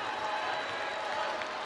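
Applause from the crowd at a men's volleyball match, France versus USA, a steady broadband wash of clapping and crowd noise held at an even, moderate level throughout.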